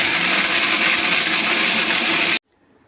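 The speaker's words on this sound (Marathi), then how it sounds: "थोडंसं थंड झाल्यानंतर आपण मिक्सरला फिरून घेऊया हे ड्राय रोस्ट केलेले आपण ड्राय फ्रुट्स आपण मिक्सरला" A mixer grinder whirs at full speed, grinding dry-roasted dry fruits. The loud, steady buzz runs for over two seconds and then cuts off abruptly into silence.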